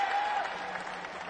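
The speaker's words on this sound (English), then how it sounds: "It's a rapturous applause from this crowd" Crowd applause at a cricket match between Zimbabwe and the Netherlands at the Sporting Club in Harare, a soft, distant wash of clapping lasting about a second.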